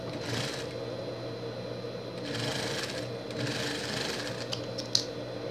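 A sewing machine stitches small pieces of a Minions pet costume, running as a steady close hum with a brief sharp click near the end.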